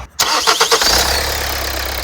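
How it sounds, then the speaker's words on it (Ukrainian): A crossover SUV's diesel engine cranks and catches, then settles into a loud, steady idle with a low rumbling throb, close by and with no talking. "крутиться бадьоро, працює гарно, двигун не трясе, ніякого там постороннього шуму"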